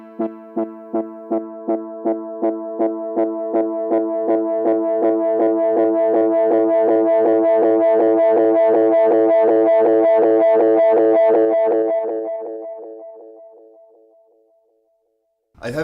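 A repeating tone from an Alesis GuitarFX unit swells as feedback, boosted well above 100%, builds, echoes stacking into a thick, distorted drone that sustains loudly, then fades away to near silence.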